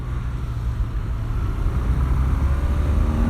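BMW R12 nineT motorcycle engine pulling steadily as it accelerates again, a continuous low drone with wind rush that swells slightly louder toward the end.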